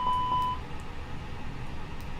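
An A320 fire alarm test tone in Microsoft Flight Simulator sounds as a steady electronic tone held for about half a second, then cuts off, leaving a low cockpit hum.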